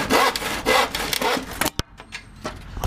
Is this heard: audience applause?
no